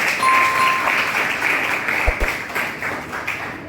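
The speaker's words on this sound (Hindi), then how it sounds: "इस बात पे बेटी तालियां बजा रहे हैं" Steady applause from an audience at a Hindi poetry recital at a school in Muradnagar, a dense wash of clapping that holds at an even level for a few seconds.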